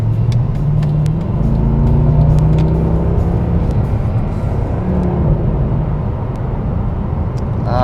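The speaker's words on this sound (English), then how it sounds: "I'll push the AMG button and let's pass this car up ahead here" A Mercedes-AMG car with its AMG mode switched on accelerates to pass another vehicle, a loud, steady engine roar with rising harmonics, heard from inside the cabin and lasting throughout.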